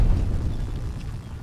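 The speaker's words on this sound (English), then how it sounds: "the grenade launcher is insane" A grenade launcher explosion in a military video game, heard as a dense, rumbling low blast that fills the short moment and slowly fades.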